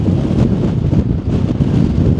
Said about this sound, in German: Interessant ist der Mittelwind